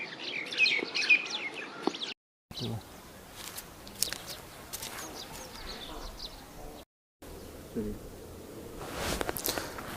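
Birds chirp and tweet in quick bright bursts at the start, then fainter calls continue over quiet village ambience in Mandi, Himachal Pradesh, with a few footsteps.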